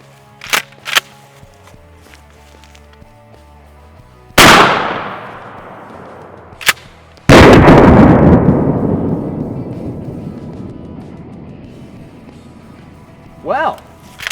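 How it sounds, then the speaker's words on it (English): Two loud 12 gauge shotgun slug blasts fired at a septic pump outdoors, each a sharp crack with a long rolling echo, set apart by a few seconds and a couple of smaller clicks. "Oh yeah, 12 gauge shotgun slug, getting the job done."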